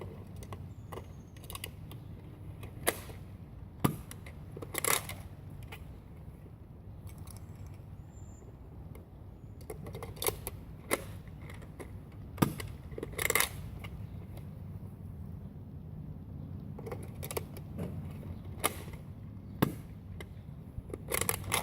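Nerf Zombie Strike Sledgefire blaster firing shots, heard as a string of sharp, evenly spaced snaps and clacks over steady background hiss, with quieter handling rattles between them, close and without talk.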